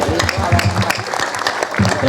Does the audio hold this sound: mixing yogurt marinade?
no